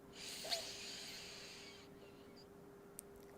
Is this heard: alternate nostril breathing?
yes